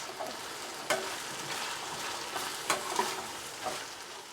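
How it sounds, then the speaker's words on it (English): Vegetable biryani ingredients being stirred in a hot pan, giving a steady sizzle with occasional scraping clacks from the spoon, near and alone without voices. "Mix all the ingredients properly and leave it for 5 minutes."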